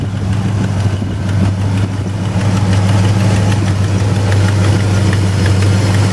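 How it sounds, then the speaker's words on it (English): A 1971 Buick GS 455 convertible engine with ram air idles steadily nearby, a low continuous rumble with a constant hum and no voices. "Motor's running right now."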